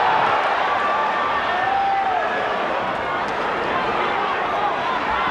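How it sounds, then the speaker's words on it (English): A boxing arena crowd roars in a steady, dense wash of cheering and shouting as Olajide attacks Thomas Hearns, the noise holding loud and unbroken throughout. "Crowd now reacting to anything Olajide throws."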